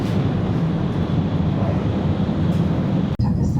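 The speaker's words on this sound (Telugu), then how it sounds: "సో ఇవన్నీ జపాన్ టోక్యో లోకల్ ట్రైన్స్ ఇవన్నీ." Tokyo local train on the Yamanote Line, a steady loud rumble of wheels and motor running without a break, close by, with a short dip near the end.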